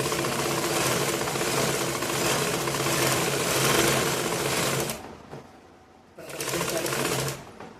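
An electric sewing machine stitching the lining of a blouse back panel runs in a fast, continuous buzz for about five seconds, stops briefly, then makes a second short burst.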